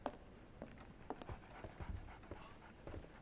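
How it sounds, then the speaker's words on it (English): Dog panting in Sherlock Holmes: The Awakened, heard as soft, repeated breathy huffs in an uneven rhythm over a quiet, muffled room ambience, with no talking. "Sounds like there's a dog in here."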